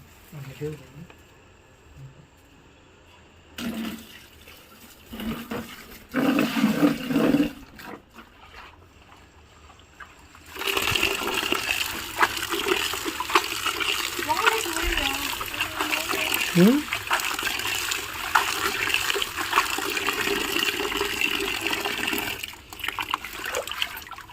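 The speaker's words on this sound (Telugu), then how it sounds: "ఈ బకెట్లో నీళ్ళు పడతాను" Water pours steadily into a bucket, building to a sustained, close splashing rush in the second half after quieter, intermittent sounds earlier.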